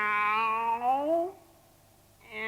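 A single long, drawn-out cat meow, clear and close, followed by a brief silence and the start of another meow.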